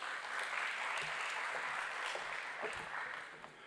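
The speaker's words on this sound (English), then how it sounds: "With a round of applause" Applause from a national constitutional conference audience greets a professor coming to the stage, a faint, sustained crowd clapping that holds steady and then gradually thins out.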